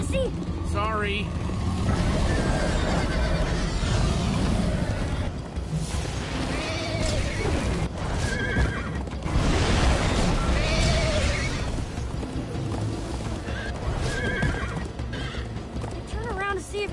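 Horse in Minecraft Story Mode whinnies repeatedly over continuous galloping hoofbeats during a chase. The sound stays loud and busy throughout, with several rising neighs and other game sounds mixed in.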